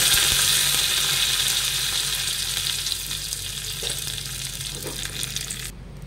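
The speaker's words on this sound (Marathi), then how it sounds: "तडकासाठी आपण तेल तापून घेतले त्याच्यात मोहरी टाकली, नंतर जिरं," A tempering of mustard seeds, cumin and curry leaves sizzling in hot oil, with a loud, steady close-up hiss and crackle that slowly fades before cutting off.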